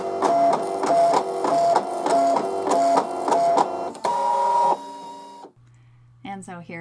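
An electronic cutting machine cuts a design from fabric for a Christmas sweatshirt, giving a loud, rhythmic run of stepped motor whirs and carriage moves that end in a steady hum, with a brief voice at the close.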